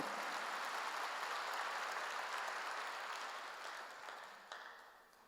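Congregation applauding in a church, a steady broad wash of clapping that holds for several seconds and then gradually fades out.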